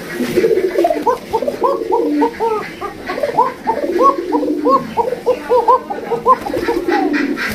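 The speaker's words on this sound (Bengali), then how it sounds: "দেখছেন কি ডাক একদম কড়া একদম কবুতরগুলো" Frightened Bashiraj pigeons in a crowded loft coo loudly and continuously, a dense overlapping chorus of throaty rolling calls kept up close by for several seconds.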